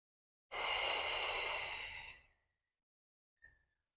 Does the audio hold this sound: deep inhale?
yes